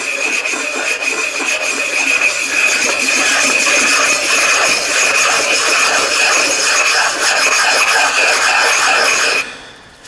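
Honing tool working valve guides of a 79-year-old Jeep engine with plenty of honing oil, giving a close, steady rasping scrape that runs continuously before stopping abruptly near the end.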